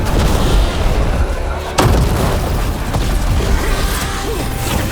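Combat in the video game Dragon Age: The Veilguard, with dense, loud rumbling gunfire and blasts filling the whole stretch, one sharp crack standing out midway.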